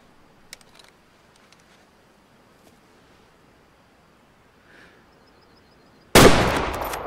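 A single loud hunting rifle shot in Way of the Hunter cracks sharply near the end after several seconds of quiet outdoor ambience, then trails off in a long, rolling echo.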